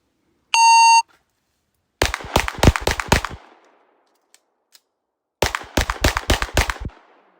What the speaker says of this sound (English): 5 shots, reload, 5 shots.